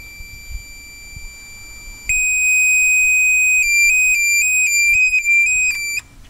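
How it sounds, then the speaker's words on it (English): A LifeGard 2 PASS firefighter alarm goes off with a loud, piercing electronic tone that steps up sharply after a quiet start and pulses through several rising and falling chirps before cutting out. "So that is the LifeGard 2 pass device."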